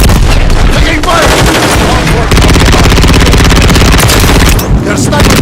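Sustained automatic gunfire roars in a military shooter video game, a loud unbroken stream of rapid shots with heavy booms, dense and close throughout, with a voice talking under it.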